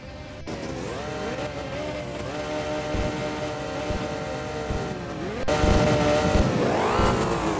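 Engine sound from a street-racing video game: a steady, loud motor drone with gear-like pitch sweeps and revving that surges louder near the end, no talking.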